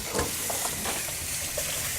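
Garlic sizzles and crackles in a hot pan, a steady frying hiss with small pops and stirring sounds throughout, close and fairly loud, no voices.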